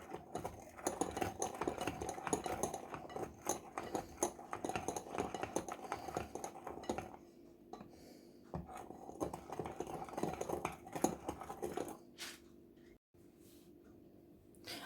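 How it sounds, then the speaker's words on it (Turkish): A dough mixture for a tart base is stirred in a bowl, with a dense run of rapid scraping and clattering at close range that thins out to quieter stirring toward the end. There is no talking. "Hepsini karıştırıyorum"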